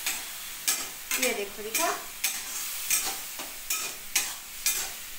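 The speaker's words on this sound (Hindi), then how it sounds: "डालने के बाद अब हम इसको करेंगे फ्राई।" Mint pulao ingredients, including mint, frying in a pan and stirred with a spatula: repeated scraping strokes over a steady sizzle, close and fairly loud, with a brief spoken remark.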